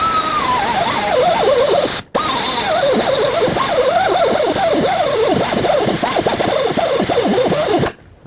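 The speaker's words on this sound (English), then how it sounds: "then use my air chisel and finish it off the rest of the way" A pneumatic air chisel cuts through the front shock absorber nut on a 2003-2021 Chevrolet Express van, hammering loudly and rapidly in a buzzing rattle that wavers in pitch, pausing once briefly and then running on until it stops near the end.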